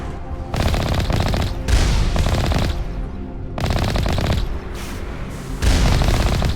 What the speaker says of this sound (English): Again, I'm shooting point blank.